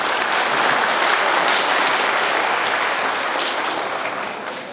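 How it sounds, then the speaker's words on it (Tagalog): Sustained, dense applause from a large crowd at a national congress gathering, loud and continuous before tapering slightly toward the end. "kaunting palakpak naman para sa ating mga."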